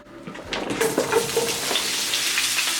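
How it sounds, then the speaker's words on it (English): Mixed vegetables and scallions hit hot olive oil with a steady crackling sizzle that swells after the first half second and holds loud and close, with a few utensil scrapes mixed in. "So I'm adding in some oil. I'm using olive oil, and once it's hot I'm gonna add in my vegetables."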